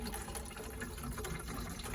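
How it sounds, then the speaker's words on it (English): Water and diesel fuel drain from a boat's day tank into a jar with a steady, hissy trickle and splash, continuous and fairly close, with no talking. "So the first job is to drain the day water, the day tank."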